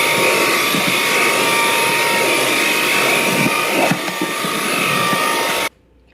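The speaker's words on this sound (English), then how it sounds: "Here's the stick vacuum on max power." A Proscenic P11 cordless stick vacuum roars steadily at max power with a high whine and broadband rush, then cuts off abruptly near the end.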